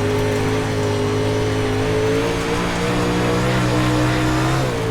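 UMP race cars roar around the Volusia track in a close last-lap battle, a loud sustained engine drone with shifting pitch as the motors rev down the straightaway, continuous and near with no talk.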